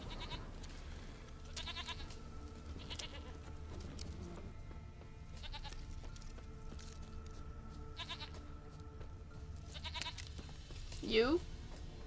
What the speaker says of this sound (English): I can hear a goat.